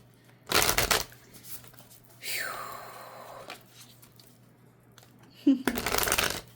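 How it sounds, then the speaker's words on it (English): Tarot cards are shuffled in two brisk riffling bursts, separated by a soft sliding, crinkling stretch and a brief squeak, close and clear in a quiet room with no talk. "Let me just shuffle off the table this time."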